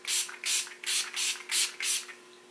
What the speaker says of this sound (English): So I'm just going to spray this on my face.